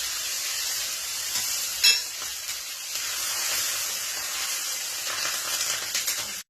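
Curry leaves drop into hot oil already seasoned with asafoetida for a tempering, giving a sharp sizzling burst early on. A steady, close frying hiss with crackles then carries on, and no one speaks.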